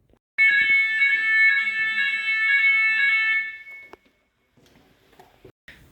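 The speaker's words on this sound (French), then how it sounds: "vous venez de voir les séquences alarme incendie de test" A loud, piercing electronic fire alarm tone blares continuously for about three seconds during a test, then cuts off, leaving faint clicks and rustling.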